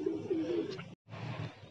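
Pigeons coo softly nearby in two short bursts separated by a brief gap, with no talking.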